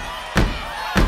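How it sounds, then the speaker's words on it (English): Children stomping their feet together at a church vacation Bible school, making two heavy, separate thumps about half a second apart, close and loud against a faint room hum. "Can you guys stomp your feet like that?"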